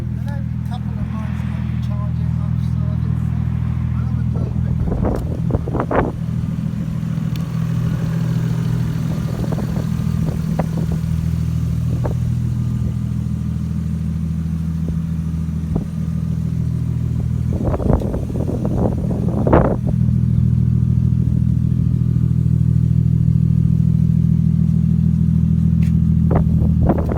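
A barn-find Toyota Supra runs with a noisy exhaust, holding a steady, loud low drone throughout, broken by occasional clattering bursts.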